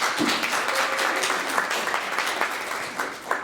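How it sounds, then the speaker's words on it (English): Audience applause for panelists after a community dialogue on sexual assault prevention, a short, dense burst of clapping from a room of people, fairly close and steady throughout. "Why don't we give a round of applause to all of our panelists?"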